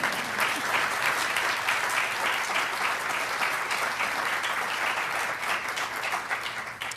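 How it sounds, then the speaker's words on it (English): Sustained audience applause fills a hall during an LGBTQI+ foreign policy convening hosted by the Secretary of State, a dense steady wash of clapping that holds loud throughout and tapers slightly at the end. "Feel free to give that a round of applause."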